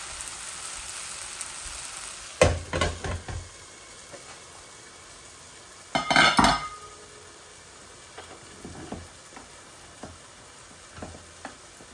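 Mixed greens fry in a pan under a steady low sizzle. Two louder bursts of stirring and clinking metal stand out, followed by quieter scattered scrapes.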